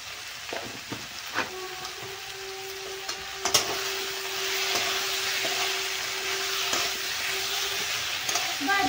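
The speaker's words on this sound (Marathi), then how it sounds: "ह्याच्यामध्ये कोथिंबीर टाकलेली तिथे बटाटा छान परतून घ्यायचं आहे आपल्याला" Potatoes sautéing in a pan with coriander and salt make a steady nearby sizzle with scattered clicks of stirring, and a faint voice comes in briefly.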